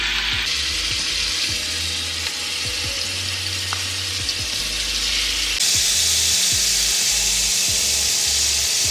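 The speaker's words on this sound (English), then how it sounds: "And we are going to allow this to cook until it's no longer pink and have a nice searing to it." Steak meat searing on a hot oiled griddle for a Korean steak sandwich, a steady loud sizzle and hiss that swells partway through, close up with no talking.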